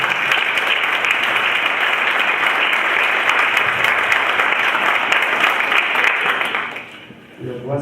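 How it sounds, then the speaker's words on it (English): A church congregation gives a warm round of applause at a conference. The clapping is loud and continuous, then dies away near the end as a voice begins to speak. "give one more round of applause to Reverend Sandy and her family"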